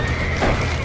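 A horse whinnies loudly in the video game Red Dead Redemption over a dense, noisy background, a brief strained neigh lasting under a second, as trapped horses need rescuing.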